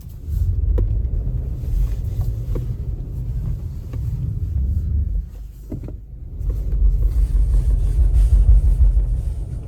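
A Subaru Outback Wilderness drives through unplowed fresh snow, its engine held near 2000 RPM as a loud, steady low rumble with crunching and a brief dip midway.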